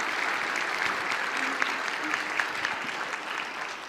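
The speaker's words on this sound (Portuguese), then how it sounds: "Uma salva de palmas para essa atriz." An audience applauds an actress at a talk: sustained, even clapping from a crowd with a few sharper individual claps standing out, moderately loud throughout, with no one speaking over it.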